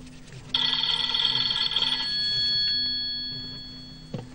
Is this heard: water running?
no